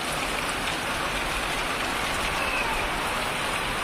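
Heavy rain pouring down outside, a dense, constant hiss of falling water with no pauses, loud and close, with no voices.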